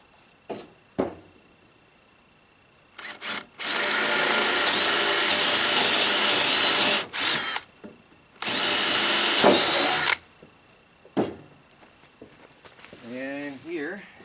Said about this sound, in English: I've got a drill here.